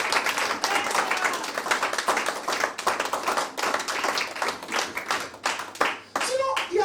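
A church congregation claps and applauds together, a dense continuous patter of hands lasting several seconds, with voices mixed in throughout.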